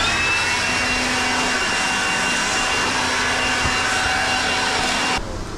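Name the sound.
insulation blower machine running with a weird vibration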